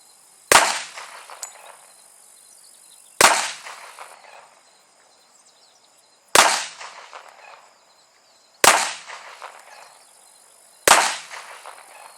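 An XDM 45 pistol fires five sharp, loud shots at a steady slow pace, each crack followed by a short ringing echo, with near silence between.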